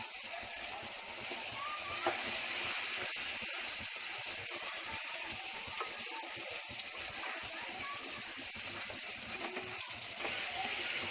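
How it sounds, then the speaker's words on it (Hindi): Water splashes and gushes steadily into a cooking pot of frying tomato, ginger and garlic, a continuous watery pour with faint sizzling beneath it. "अब इसमें डाल रही हूँ पानी।"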